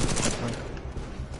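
Gunfire in the video game Titanfall 2, a dense, loud, continuous burst of rapid automatic shots with no break.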